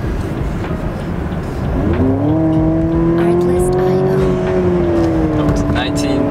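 A Cadillac ATS fitted with a ZZP intake revs up, its engine tone climbing and holding steady close by over a rough noisy background.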